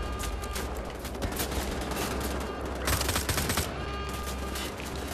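Luger pistol gunfire in Wolfenstein: The Old Blood, a dense, continuous run of shots with a heavier burst near the middle and steady loud combat noise throughout.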